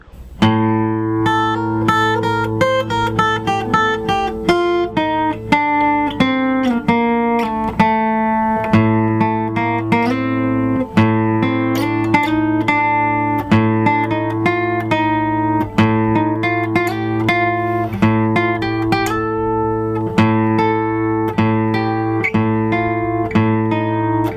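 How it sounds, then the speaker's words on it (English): A steady low A drone sustains beneath a melodic line stepping up and down through the dark, unsettled A Locrian scale, played clearly and evenly without any voices. "What does A Locrian sound like?"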